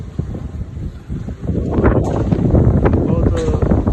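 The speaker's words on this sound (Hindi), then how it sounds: "तेज हवा चल रही है, काफी तेज होती है" Strong storm wind gusting during a thunderstorm with heavy rain, a loud, continuous roar that rises and buffets against the microphone, building steadily from the midpoint onward.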